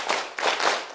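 A group of women claps on cue in a quick, uneven run of about three claps, each one smeared because the hands do not strike together.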